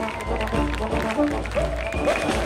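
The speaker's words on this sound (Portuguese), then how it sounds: "Essas palmas aí!" Crowd clapping at an outdoor concert at a fair, rhythmic applause from the audience under sustained music with a strong pulsing low beat, the clapping blending into the ongoing band sound.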